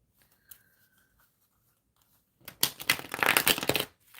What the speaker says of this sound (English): Okay, so I am shuffling